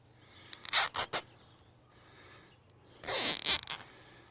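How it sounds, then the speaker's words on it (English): A zip tie ratcheted tight around the end of a filled GardenSoxx mesh tube: two bursts of quick, close zipping clicks separated by quieter handling rustle. "all we have to do is zip tie off the end"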